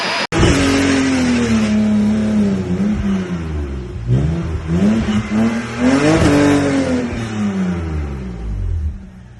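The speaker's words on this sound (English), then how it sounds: "trying to do a burnout" A car engine revs hard and close during a burnout, pitch climbing and falling in repeated surges, with a rough roaring edge throughout.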